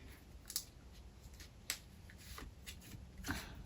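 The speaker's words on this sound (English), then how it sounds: "I'm going to pick 3 cards." Tarot cards being shuffled by hand, close and quiet, with soft riffling and a few sharper snaps spread across a few seconds.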